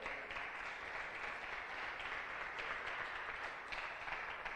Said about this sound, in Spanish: ¿Le damos una ofrenda de palmas al Rey de Reyes?